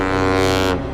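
A loud, deep ship's horn blares steadily, a rich sustained tone that drops off sharply just before the end.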